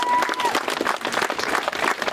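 Audience applause for volunteers at a political event in Drayton Valley, Alberta: dense, steady clapping from a crowd filling the whole stretch, loud and continuous with no voices standing out.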